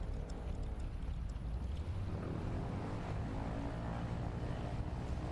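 A light aircraft taking off in Microsoft Flight Simulator during a short-takeoff competition makes a steady, broad engine and propeller roar that holds even and loud throughout, with no voices.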